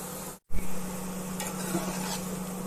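Pirandai murukku dough sizzles steadily in hot oil, a dense and even frying hiss heard close and alone after a brief silent gap at the start.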